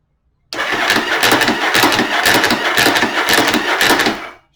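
Yamaha Virago XV750 motorcycle engine cranking over and catching, a loud, steady rhythmic chugging of starter and cylinders that runs for about four seconds before cutting off abruptly, with no talking.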